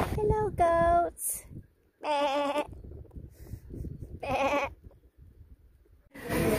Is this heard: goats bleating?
yes